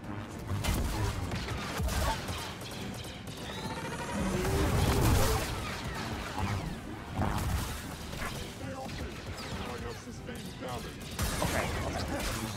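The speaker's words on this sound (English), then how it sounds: "Stop shooting me!" Blaster gunfire from Star Wars Jedi Survivor crackles in rapid volleys amid busy game combat clatter and whooshes, moderately loud, with voices talking over the action.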